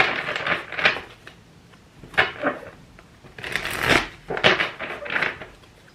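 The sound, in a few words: shuffling tarot cards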